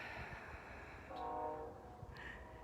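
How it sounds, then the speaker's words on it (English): A train passes in the distance through open wilderness, a low steady rumble with a sustained horn-like tone swelling midway, faint and far off beneath a quiet outdoor ambience. "And you can hear the train behind us."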